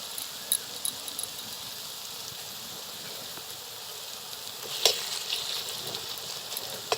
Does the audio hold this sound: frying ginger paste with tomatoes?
yes